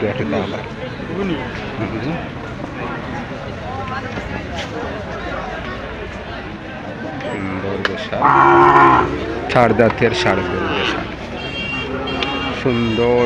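A bull moos loudly a few times amid a busy background of people talking and general crowd noise at a cattle market in Sylhet.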